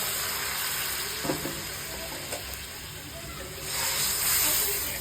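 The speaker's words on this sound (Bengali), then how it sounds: "আমি একটু সামান্য পরিমাণে পেঁয়াজ আর কালো জিরে আর শুকনো লঙ্কা দিয়ে দিয়েছিলাম এবার আমি ফোড়ন দিয়ে দিলাম ডালটা" Hot tempering of onion, nigella seeds and dry red chilli poured into dal gives a broad hiss and sizzle that swells toward the end, with a few light knocks of a utensil.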